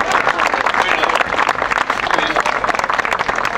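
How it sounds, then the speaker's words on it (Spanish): Audience clapping at an anniversary celebration, a dense continuous patter of many hands, loud and close, lasting throughout. "Esos aplausos están un poco raros"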